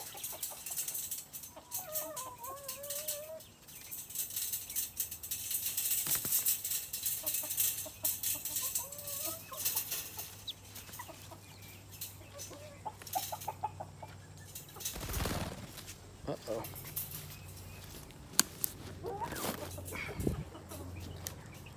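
Quail, mainly speckled-breasted females, give soft clucks and chirps near the recorder, scattered calls over a low background with a few brief rustles and knocks.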